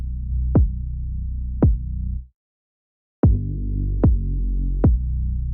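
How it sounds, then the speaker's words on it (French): A kick drum and bass line play together in a music mix being balanced, with a steady sustained bass tone punctuated by five deep kick hits, cutting out briefly before resuming; no talking. "on entend que mon kick tape bien et on entend bien la basse"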